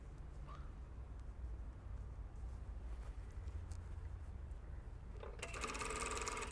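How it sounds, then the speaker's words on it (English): Sewing machine stitching a shirt cuff and sleeve into the armhole, a continuous low mechanical hum and rattle close by, growing brighter and louder near the end. "And this time sewing right on the edge of that."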